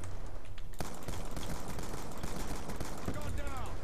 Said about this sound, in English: What's all those gunshots?